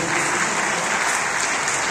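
Warm, continuous audience applause for a young singer of the Pendikliler Derneği Turkish classical music choir at its finale, dense and even throughout.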